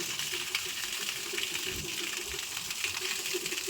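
Water spraying steadily over a loaded vehicle during a wash, a continuous hissing splatter that stays loud and even throughout, with no talking.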